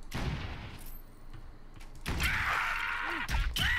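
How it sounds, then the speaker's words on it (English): Revolver pistol shots in the LEGO Worlds video game, a few sharp cracks with a dull thud and game noise between them, loud and up close, with no talk. "Oh, I found a pistol. Looks like a revolver."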